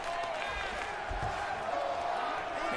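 Virtual arena crowd in EA Sports UFC 2 cheering during a Silva vs Coleman fight, a constant roaring wash of crowd noise that stays even and loud throughout, with a voice faintly present underneath.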